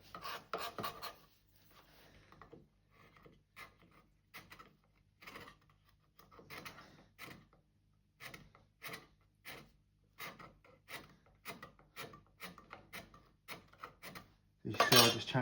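A scraper works across a wooden hand plane, giving short quiet scraping strokes in irregular bursts with pauses between them, and a louder harsh scrape at the very end.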